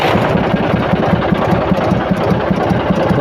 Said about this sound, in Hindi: ये ट्रैक्टर का इंजन आरपीएम बिल्कुल आइडल है